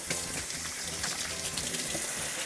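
A kitchen tap runs with hot water while hands are washed after handling raw meat for spaghetti, a steady close gush of running water with no talk.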